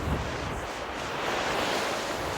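Tide-driven river water surging in at a riverside on a sunny walk, a steady broadband wash and roar with some wind buffeting, close and continuous with no voices.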